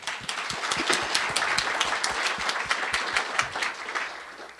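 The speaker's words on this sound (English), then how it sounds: "a big round of applause for Earl, please" An audience at a trucking industry event applauds a speaker with steady, lively clapping from many hands, close and continuous throughout, with no talking over it.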